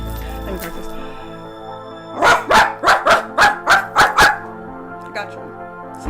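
A man imitates a dog with a deep voice, giving about eight loud, evenly spaced barks in a quick burst after a brief stretch of background music.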